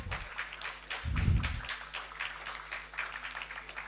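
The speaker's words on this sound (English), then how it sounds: "here I will request each one of you to please clap" Audience applause at a department acknowledgment event, a steady wash of clapping running the whole way with a low thump partway through.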